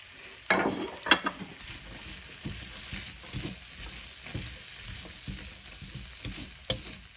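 Snow peas and carrots sizzle in a hot pan for a shrimp and ginger stir fry, a steady frying hiss broken by a few sharper crackles and spatters near the start and again toward the end, with no voices.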